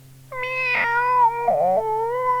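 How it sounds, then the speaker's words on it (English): A cat named Rosa meows up a tree, two drawn-out, wailing cries close by, the second bending lower in pitch, with a steady low hum underneath. "Meow, wailed Rosa"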